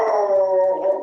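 A dog howls close by, worked up by squirrels outside the window, a single sustained wavering howl with no talking.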